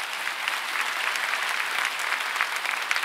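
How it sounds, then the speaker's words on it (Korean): A church congregation claps steadily and enthusiastically during a sermon, a dense, continuous wash of applause throughout. "우리 하나님께 감사의 박수 올려드리십시오"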